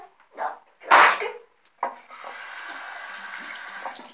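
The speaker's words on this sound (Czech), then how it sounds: "Já si umyju ruce." Hands being washed under a running bathroom tap: a few splashes and rinsing bursts, then a steady stream of water pouring into the sink, close by, with no talking.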